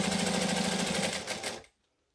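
Sewing machine stitching fabric, a fast, even mechanical rattle of the needle running continuously for under two seconds, then stopping abruptly into silence.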